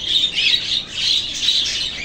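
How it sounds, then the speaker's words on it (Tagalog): Pet birds on a rooftop give a continuous run of harsh, shrill squawks and chirps that pulse in rapid overlapping bursts, loud and close, with no voices. "ipapasilip ko uli sa inyo itong mga alaga kong ibon"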